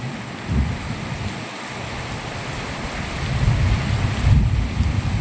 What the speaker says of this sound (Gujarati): વરસાદની ગતિ વધી ગઈ છે પવનની ગતિ પણ વધી ગઈ છે